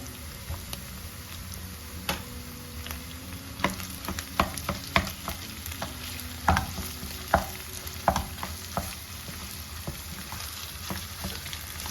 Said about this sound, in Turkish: Güzelce karıştırıyorum. Salçalarım, salçam kavrulacak.